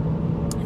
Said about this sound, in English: we're in his truck, and it's bouncing around a lot